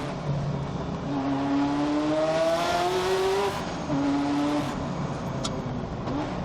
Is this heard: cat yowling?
no